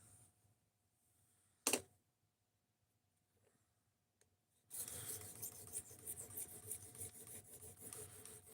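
A knife blade drawn across a ceramic sharpening stone of roughly 1,200 to 1,500 grit gives a steady, close, rasping scrape that runs continuously through the second half, after a quiet stretch with a single sharp knock.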